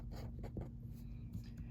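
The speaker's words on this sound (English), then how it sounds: "I'm gonna write that down here so I have more room" Soft scratching strokes of a pen or marker writing out math notes, several short bursts under a low steady hum, quiet and close.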